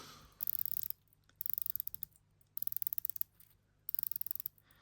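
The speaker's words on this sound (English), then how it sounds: "Nice clicks on the bezel." Close-up ratcheting clicks from the rotating bezel of a Seiko 5 Regatta special edition SRPK13K1 sports watch, four quick bursts of rapid crisp clicks separated by short pauses, quiet and with no talk.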